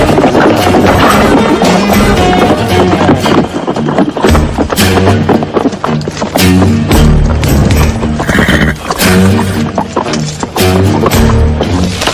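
A horse in a Western drama, loud, close neighs and whinnies mixed with clip-clopping hooves, set within a busy soundtrack of other sounds and music.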